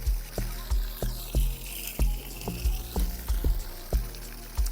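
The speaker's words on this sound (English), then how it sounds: "And then we fill it with water." Water pours into a bag set inside a container, a turbulent splashing gush with rhythmic surges and low sloshing thumps, close and continuous.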